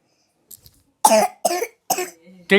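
A child coughs four times in quick succession, close and loud, each cough a short harsh burst after a brief faint sound.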